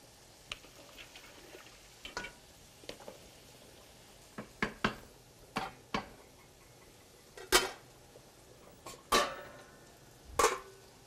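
Mini penne with ridges and rotini pasta being stirred in a cooking pot, a spoon clinking and knocking against the pot in a series of irregular taps, some sharper and louder than others, with no voices.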